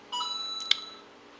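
A mobile phone gives a short, faint electronic beep, a steady tone ending in a brighter chirp, over a quiet background with no talk.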